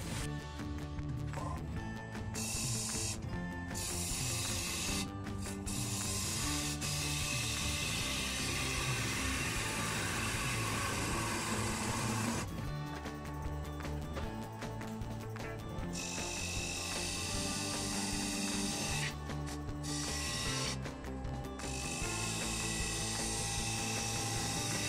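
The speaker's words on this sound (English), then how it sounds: "I just want to get a nice straight line around here, and then I can start taking this away." A cedar vase spins on a wood lathe while a skew chisel cuts its surface, giving a loud continuous whirring and scraping tone with harmonic hum, broken by several short pauses and changes in the cut.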